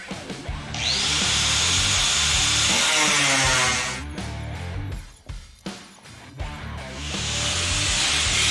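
A power tool cuts sheet metal for a new visor on a 1928 Model A Ford, a loud, continuous grinding whine broken by a few short stops and restarts before running steadily again.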